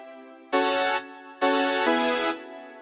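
An old-school style synth preset in FL Studio plays two bright, buzzy sustained chords, each about half a second long, with a short gap between them, alone and up front.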